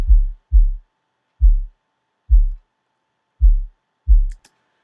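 In Ableton Simpler, a tuned-down sub kick drum layer plays six deep, booming low thumps in a loose rhythm, heard alone, with a faint click after the last hit.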